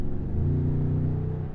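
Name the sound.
2014 Toyota Tundra Platinum exhaust rumble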